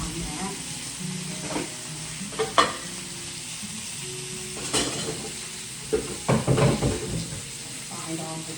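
Potatoes frying in a pan on a home stove, a steady close sizzle with occasional stirring scrapes and light clinks of cookware over it, with a faint voice in the background.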